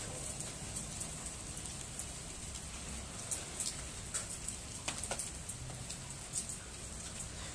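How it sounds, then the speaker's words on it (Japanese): Steady light rain patters on surfaces outdoors, a soft continuous hiss with scattered brighter drop hits and occasional faint bird calls in the background. "ちょっと雨が降ってきました。"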